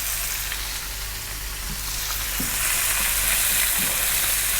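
Chopped onion and ginger garlic paste fry in hot oil for a curry, giving a loud, continuous close sizzle that swells slightly toward the end, with a few soft utensil knocks.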